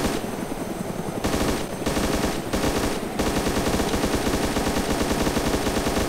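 Rapid machine gun fire from the DayZ video game, fired from a helicopter, long sustained automatic bursts with brief pauses, loud and close over a constant engine drone.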